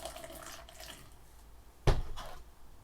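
Water is dumped from a container in a chemistry lab, a short soft trickle followed by a sudden splash, heard close in a quiet room.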